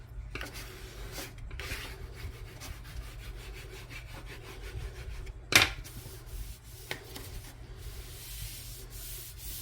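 A flat beveled bone folder rubbed and pressed along a cardboard box crease, making a steady close scraping with one sharper scrape in the middle, over a low hum.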